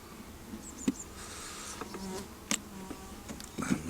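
Honey bees buzz steadily and close during an open hive inspection, a soft continuous hum with a few sharper passes of bees flying near.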